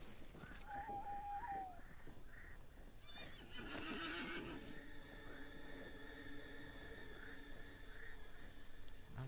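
A horse in the online game Lord of the Rings Online gives a loud, drawn-out whinny over steady clip-clop hoofbeats and a faint ambient hum.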